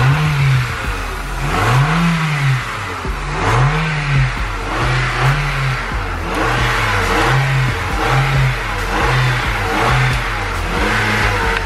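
An Acura RSX's Honda engine, just brought back to running, revs repeatedly in rising and falling surges over a steady idle, loud and close with no talking.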